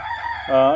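Brief, close vocalizations from broody hens sitting on eggs, a low murmuring cluck rising into a louder, tonal call.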